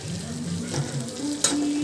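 Meat sizzling and frying in a pan, a steady close crackle with light stirring scrapes throughout and a brief louder spatter near the end.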